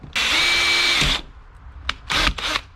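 A power drill drives screws into a storm door handle and latch assembly. A long whirring run is followed by a brief pause and then two short, loud bursts.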